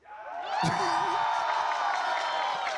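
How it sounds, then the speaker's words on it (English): A crowd in an esports arena at a Valorant match cheers and whoops steadily, loud and sustained throughout, with a caster's voice briefly audible near the start. "can we get a round of applause for this AWOL?"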